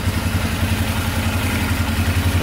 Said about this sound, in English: Idling perfectly, no knocking at all.